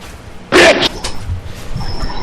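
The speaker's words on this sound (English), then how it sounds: "Good dog." A dog gives a single loud, close bark or yelp, followed by quieter snuffling and shuffling sounds in a small indoor space.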